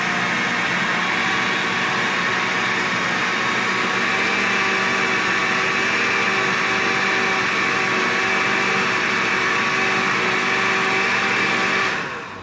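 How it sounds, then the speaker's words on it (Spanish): Blender whirring through cream cheese and peach dessert ingredients, a loud, steady, close motor roar with a high whine that holds unchanged throughout before fading slightly at the very end, with no voices. "Ya que está el queso crema dentro de todos los ingredientes, vamos a licuarlo."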